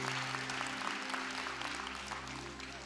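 Applause from a church audience during an Easter resurrection service, a steady wash of clapping at moderate distance that holds through the whole stretch without pause.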